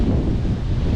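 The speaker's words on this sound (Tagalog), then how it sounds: "malamig kasi malakas yung hangin" Strong wind buffets an open seaside cliff about fifty meters high above a beach, a loud steady roar pressing on the microphone for a brief moment.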